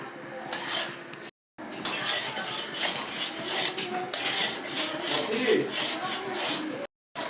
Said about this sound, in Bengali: প্রথমে সুজিটা আগে ভেজে নেব আমি একটু লাল লাল করে।